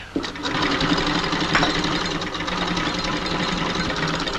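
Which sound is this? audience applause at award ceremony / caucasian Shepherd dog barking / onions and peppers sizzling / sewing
sewing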